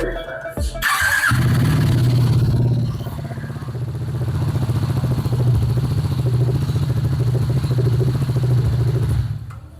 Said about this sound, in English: how does the Scrambler 400 sound?